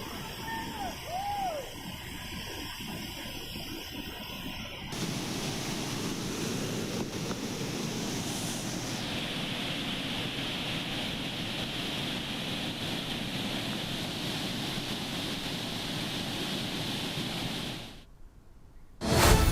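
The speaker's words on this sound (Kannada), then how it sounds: "ಈ 3 ಗೇಟ್ಗಳ ಮುಖಾಂತರವಾಗಿ ನೀರು ಹರಿದು ಹೋಗ್ತಾ ಇದೆ ನದಿಗೆ" A broad, steady roar of water rushing through three dam gates into a river fills the scene after a few seconds of windy outdoor noise, continuous and loud before cutting off near the end.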